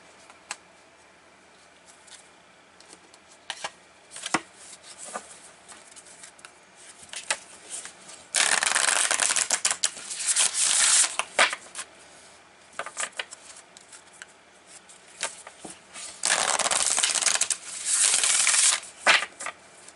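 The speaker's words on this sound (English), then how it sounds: "I'm going to pull more cards here." Playing cards are shuffled and pulled in a quiet room, with two longer bursts of riffling and scattered soft slaps and flicks in between.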